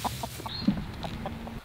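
Backyard chickens clucking near a compost corner with old hay, several short soft clucks in a loose rhythm, close by and fairly quiet, with no voices.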